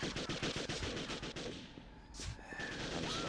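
Gunfire in the video game Second Sight, rapid automatic bursts rattling in a fast close rhythm for a couple of seconds, then a louder single blast and lingering ringing tail, no voices over it.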